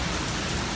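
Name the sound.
heavy rain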